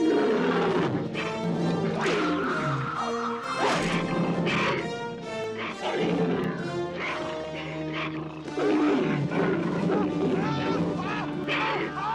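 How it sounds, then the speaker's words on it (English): A tiger roars in a scene from the 1982 fantasy film Beastmaster, with several rough, drawn-out roars and snarls over a dense dramatic film soundtrack with crashing effects. "we realise it's a tiger"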